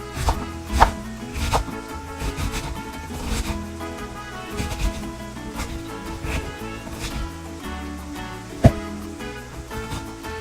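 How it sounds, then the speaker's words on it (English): A knife chopping peppers on a cutting board for vegan enchiladas, giving irregular close taps and thuds with a few sharper knocks, heard over a soft background tune. "Slice up these peppers."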